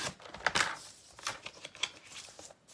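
Card stock is cut down to size with a series of crisp, close slicing and scraping strokes, irregular and fairly quiet, with small taps between them.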